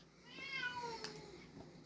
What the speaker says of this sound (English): My cat was just like, meow.